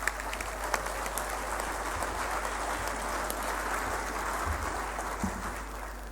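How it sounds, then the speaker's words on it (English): Steady applause from a university audience in Yaoundé, Cameroon, continues for several seconds as a soft, dense patter of many hands at a moderate distance, with occasional sharper claps standing out. "I don't think that clap is good enough."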